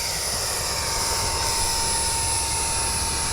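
An FGFRC Aeroscout RC plane converted to jet power roars steadily during its takeoff run, a loud continuous turbine whine with no voices.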